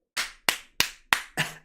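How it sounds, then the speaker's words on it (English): Hands clap six times at a steady pace, sharp and close, with short gaps between each clap and no talking. "Jordan, stop clapping your hands inappropriately."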